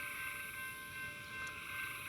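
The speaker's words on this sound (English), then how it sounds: "there's another train coming" A train rumbles past in the distance, a steady low drone with faint tonal hum throughout, no voices.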